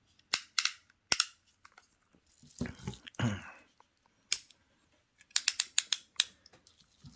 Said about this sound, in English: It has the same clicker, good sounding clicker.